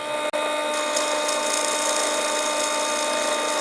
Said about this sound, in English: Now I'm going to use a 10mm brad point bit to drill the hole out.